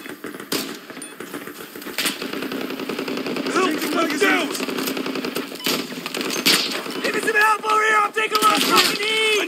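Heavy gunfire crackles almost nonstop in Battlefield 2042 PC Portal play, loud bursts and single shots mixed with clinking shell-like sounds, while shouting voices come through over the fight.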